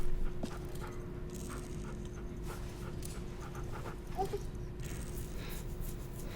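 A dog in The Walking Dead: The Final Season video game pants softly and steadily under a low background hum, with a faint whimper partway through.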